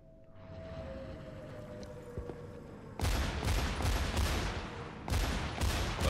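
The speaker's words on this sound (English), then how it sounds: "Oh, are you shooting me?" Rapid bursts of gunfire from the Battlefield 1943 video game, a dense crackling volley starting abruptly and continuing loud, with a second burst kicking in near the end over steady background noise.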